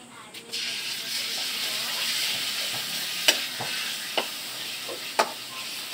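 Ground meat sizzles and hisses in a hot pan, steady and close, with a few sharp scrapes and knocks of a spatula stirring it.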